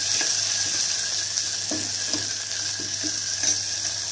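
Papdi beans fry with ginger, chili and garlic paste in hot oil, a loud continuous sizzle broken by several soft clinks and scrapes of stirring, with no voices.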